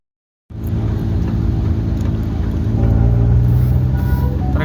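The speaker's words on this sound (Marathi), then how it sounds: "बघू शकता सगळ्या आपल्या गाड्या आहेत" A car engine at a rainy car meetup at Masai Pathar starts abruptly as a loud, close, low drone. It holds steady and swells slightly toward the end.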